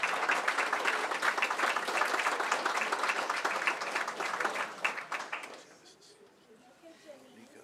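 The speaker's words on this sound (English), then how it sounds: "Round of applause." A school board meeting audience in the Coatesville Area School District breaks into loud, dense applause that carries for about five seconds, then quickly dies away, leaving a quieter room with some faint talk.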